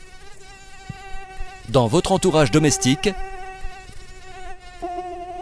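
Mosquitoes buzz in a steady, high, whining drone that continues throughout the clip, while someone speaks French briefly over it in the middle.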